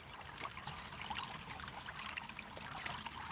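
Steady trickling and rushing water running through a gold sluice outdoors, a faint, even stream with small splashes and no talking.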